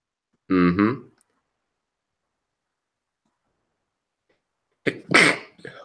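A single sharp sneeze bursts out, followed by a long silence and then a brief spoken voice.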